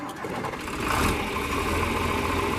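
A John Deere 402 tractor engine runs steadily, a mid-pitched mechanical drone with a slight swell in intensity about a second in, then holding constant throughout.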